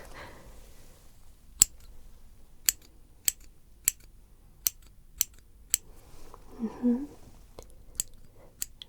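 Scissors snip at small knots in hair outdoors in a forest setting, giving about a dozen crisp, close, isolated cuts at irregular intervals with quiet pauses between, and a brief soft rustle near the end.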